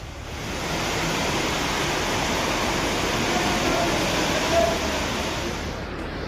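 Floodwater rushes through a market area after heavy rain, a loud, continuous broadband roar of fast-flowing water that holds steady throughout and eases slightly at the end.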